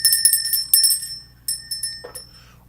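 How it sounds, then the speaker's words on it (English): A small hand bell rung during a live psychic reading session, struck in several quick bursts with clear, sustained metallic ringing tones that fade between strikes, with no talking. "I'm doing the bell tonight."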